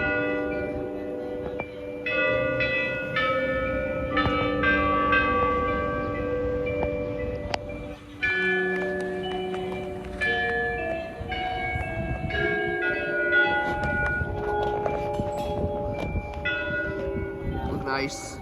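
Church bells ring out loud and sustained, with struck tones layering and decaying into each other over a continuous low rumble, with a brief gap partway through.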